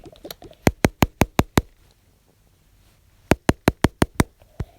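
Door knocking comes in two crisp rounds of about six rapid, evenly spaced raps each, loud and close, separated by a pause of near silence.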